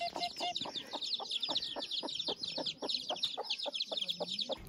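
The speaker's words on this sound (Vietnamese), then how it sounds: "Một đàn gà con, một đàn gà." A flock of hens and chicks clucks and peeps steadily in a H'mong village in the Bac Ha highlands, with rapid, overlapping chirps and clucks close by and no talking.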